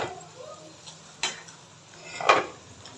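A lid lifted off a cooking pot of mixed vegetables for bhujia simmering over a normal flame gives two brief metallic clinks, a sharp tap early and a louder scraping clatter near the end, with a faint background hiss.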